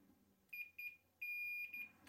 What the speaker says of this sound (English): I know that was a bit annoying hearing all those beeps